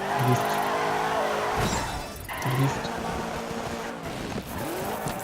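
A car crashes and skids during a gymkhana run in the racing game DiRT 3, with engine roar, tire squeal and impact noises layered over continuous game audio and music.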